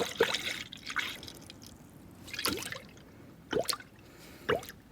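Coolant pouring into the cooling system of a 2004 Toyota RAV4 during a thermostat replacement: intermittent close glugs, drips and splashes of liquid, spaced irregularly and fairly quiet, with no talking.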